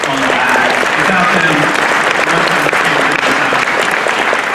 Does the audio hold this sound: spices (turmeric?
no